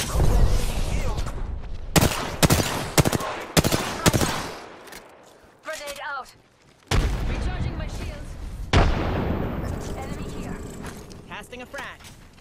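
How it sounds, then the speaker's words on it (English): Gunfire in the Apex Legends video game during a Season 15 battle: loud, close bursts of rapid automatic shots and sharp cracks with a brief lull. Game voices call out under the shooting. "They're shooting at me!"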